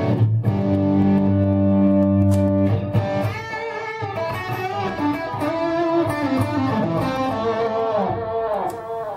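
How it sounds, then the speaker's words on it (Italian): An electric guitar played through a pedalboard with overdrive, volume and delay engaged, giving sustained distorted chords followed by a run of repeating notes with echoing tails, loud and continuous with no talking. "Secondo banco ho attivato overdrive,"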